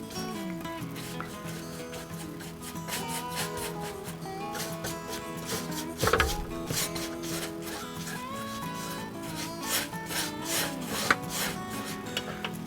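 A paintbrush works acrylic paint back and forth horizontally on canvas, blending white into another color with a steady, close, rhythmic rubbing swish over background music.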